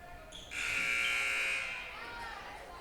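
A loud electronic buzzer sounds at a high school volleyball match in a gym, sustaining for about a second before fading into the hall's echo.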